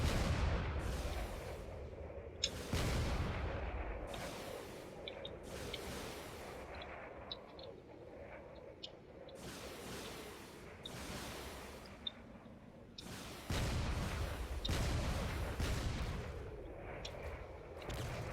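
Cannon shells fire in a drone-combat video game battle, a series of heavy booming bursts repeating every few seconds over a dense rumbling background of gunfire.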